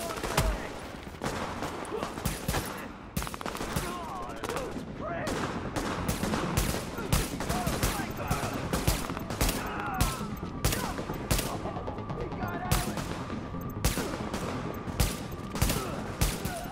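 Sustained gunfire in Tom Clancy's The Division: dense volleys and rapid bursts from several weapons crackle nearly continuously at close range for the whole stretch, with faint voices in the background of the urban firefight.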